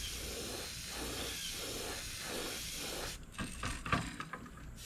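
An airbrush sprays black paint onto a fishing lure with a steady close hiss that pulses rhythmically, then breaks into shorter bursts and small clicks near the end.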